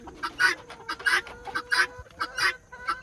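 Backyard chickens, a barred mixed-breed rooster and an Australorp hen, giving repeated close, loud honking clucks and squawks in quick irregular bursts.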